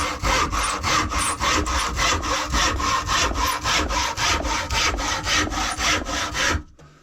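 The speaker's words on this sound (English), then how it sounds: "try and use the full length of that saw" A hand wood saw cuts through a piece of wood using long, full-length strokes, giving a loud, steady rasping rhythm of about twenty back-and-forth passes close up, with no voices, before stopping abruptly near the end.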